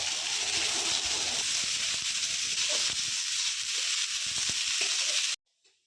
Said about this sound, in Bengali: আমি কিন্তু পেঁয়াজ আর লঙ্কা কুচিটা দিয়ে ভালো করে ভেজে নেব একদম লাল লাল করে ভেজে নেবো